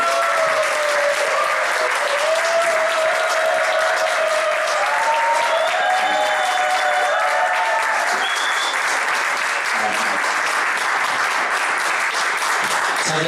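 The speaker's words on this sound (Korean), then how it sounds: "큰 박수로 맞이해 주시기 바랍니다" A lecture audience gives loud, sustained applause to welcome an author onto the stage for a management talk, dense clapping from many hands with some bright tonal sounds riding over it for the whole stretch.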